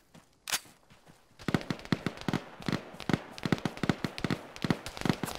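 Video game gunfire rattles in quick bursts at night, a sharp crack first and then a dense run of shots that sounds some distance off. No one speaks over the firing.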